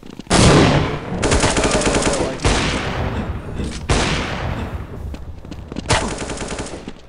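Loud, sustained automatic gunfire from a CS:GO match comes in long bursts, with sharp restarts after short breaks and a dense, continuous rattle throughout.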